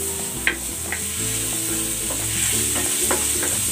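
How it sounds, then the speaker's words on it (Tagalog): Garlic sautéing in hot cooking oil, a steady close sizzle with a few stirring scrapes of a utensil in the pan, no voices. "Maglalagay ako ng cooking oil. Gisa na natin tong bawang."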